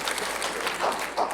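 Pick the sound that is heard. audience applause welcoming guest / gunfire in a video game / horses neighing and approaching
audience applause welcoming guest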